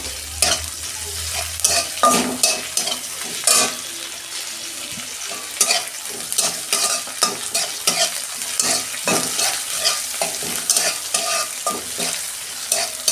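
Grated ginger sizzles in hot oil for a red lentil dal with drumsticks, with close, repeated scraping and stirring of a spoon in the pan and occasional clinks, no talking.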